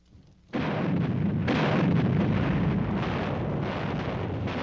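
Naval shells bombarding an island in wartime, heard as a sudden heavy blast that swells into a sustained loud rumbling roar, with a second surge a moment later and no talk.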